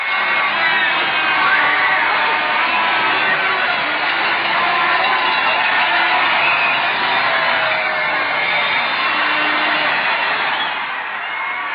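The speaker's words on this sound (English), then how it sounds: "We'd like to let you listen to the crowd." A huge crowd cheering, whooping and shouting in the street on V-J Day 1945, a dense continuous roar of voices heard from above through an old narrow-band broadcast recording.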